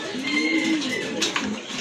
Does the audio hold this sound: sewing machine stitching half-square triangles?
no